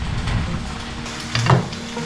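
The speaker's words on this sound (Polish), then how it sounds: "ryba się smaży" Fish fries in a pan, giving a steady close sizzle with a brief louder crackle and stir near the end, and no voices over it.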